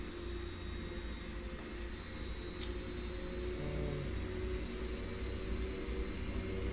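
Steady airplane engine drone in X-Plane 10 during cruise flight, a continuous loud low hum with tonal bands that holds level throughout, a couple of faint brief clicks above it, no voices.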